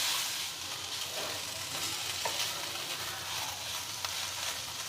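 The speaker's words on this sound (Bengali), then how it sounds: "মাছটা দিয়ে আমি এখানে 5 থেকে 7 মিনিট ভালো করে নাড়িয়ে নেব।" Fish pieces for fish fingers frying in a pan while being stirred, giving an even, close, hissing sizzle with faint scraping and no speech.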